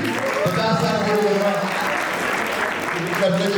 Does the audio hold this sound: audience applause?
yes